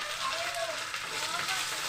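Curry leaves, dried chillies and cumin frying in hot oil for a tempering, a soft continuous sizzle with faint crackles, steady and close.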